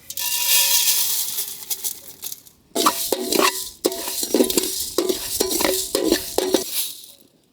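Coriander masala being dry-roasted and stirred in a pan, with a steady scraping sizzle that breaks into rhythmic stirring strokes and clatter, loud and close, with no talk.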